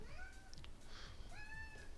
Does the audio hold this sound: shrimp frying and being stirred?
no